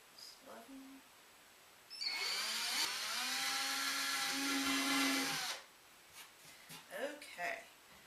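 A power drill bores into a wooden pet toy box, a whining motor that rises and holds for a few seconds before stopping, with quiet handling sounds and speech around it.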